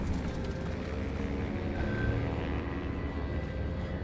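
An enemy plane in the video game Assassin's Creed Unity drones overhead with a steady, dense engine roar. The sound holds the same level throughout and rises slightly in the middle, with no talking.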